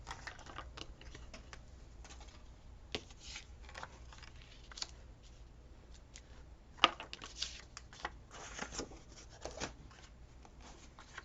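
Scissors snipping through paper or card while making a Christmas board, heard as a quiet series of scattered dry clicks and rustles with a few sharper snips, close and alone with no talking.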